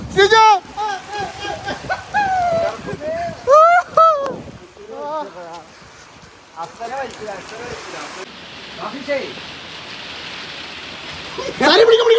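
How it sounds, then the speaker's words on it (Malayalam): Heavy rain falls outside during a rainy day, with people in a room chatting over it; the steady wash of rain rises in the second half, continuous and fairly loud. "നല്ല മഴ പെയ്യാണ് പുറത്ത്"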